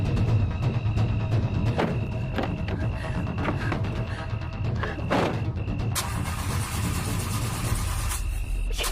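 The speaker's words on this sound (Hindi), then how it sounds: "गाड़ी क्यों नहीं स्टार्ट हो रही है?" A car engine cranks repeatedly without catching, steady mechanical churning that runs the whole time with sharp clicks and a brighter burst near the end, no voices over it.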